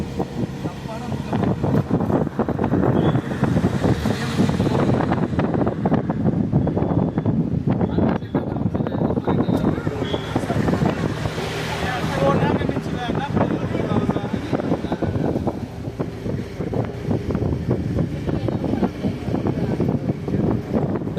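Continuous road and engine rumble with wind buffeting from a vehicle driving through hill country between Munnar and Kanthaloor, steady throughout, while people talk.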